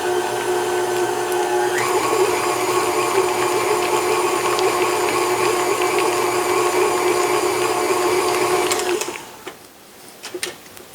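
A stand mixer paddle beats cream cheese filling for sweet crab rangoons with salt and other ingredients, giving a steady, loud motor whir with clattering bowl contact that stops abruptly near the end.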